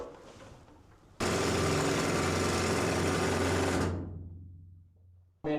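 A compressed-air mining drill with hollow drill steel roars to life abruptly, running very loud and steady with a deep motor hum and harsh broadband clatter, then winds down with a fading low drone before a brief restart at the end.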